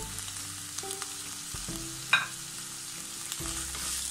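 Chopped onion and ginger-garlic paste fry in hot oil for a vegetable masala, a soft steady sizzle broken by one sharp clink of utensil on pan, with a low background hum.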